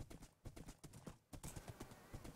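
Hooves clip-clop in a quick, steady rhythm from a horse in a Minecraft UHC game match, with a brief neigh, close and moderately loud, alone without speech.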